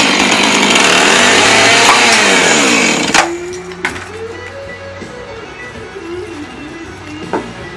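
A chainsaw roars loud and close for about three seconds while carving a wooden beer mug, then drops to a winding-down idle with a descending pitch and a few short bursts.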